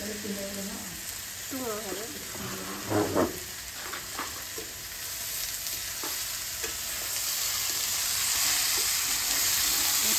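Onions sizzle steadily in a hot pan in a home kitchen, a continuous close hiss that grows slightly louder toward the end, with brief voice-like sounds early on.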